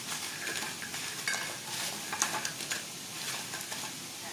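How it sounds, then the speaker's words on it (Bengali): Potatoes being refried in hot oil until crispy give a steady, bubbling sizzle with light scraping and stirring from a utensil in the pan, close and without speech. "অল্প করে ভেজে রাখা আলুগুলোকে আবার আর রিফ্রাই করে নিচ্ছি আর বেশ সুন্দর করে কালার আসা পর্যন্ত ভেজে নিচ্ছি"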